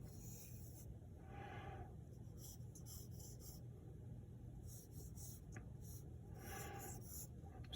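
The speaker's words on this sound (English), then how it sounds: "I'm lightly sketching out the shape for the head" A pencil lightly sketches a superhero head on paper, faint scratchy strokes in short bursts with pauses, quiet and close over a low background rumble.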